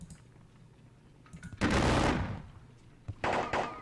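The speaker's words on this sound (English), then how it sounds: "this line infantry here will fire at these guys" Line infantry in the Napoleonic Battles Leipzig wargame fire a musket volley, heard as a sharp crackling burst that fades into a rumble, followed by a second ragged round of shots, close and fairly loud with no talking.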